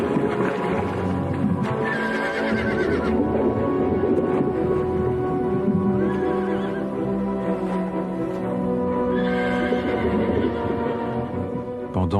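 Horses neighing and whinnying in repeated drawn-out calls over a dense, continuous rumbling background, with faint hoof clatter, fairly loud and without speech.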